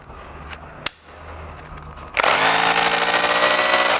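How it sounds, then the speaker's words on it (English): A Bosch 36V Bulldog cordless rotary hammer switches on in hammer mode after a few quiet seconds and a click, then runs with a loud, steady, buzzing motor drone close up. "That's our hammer function."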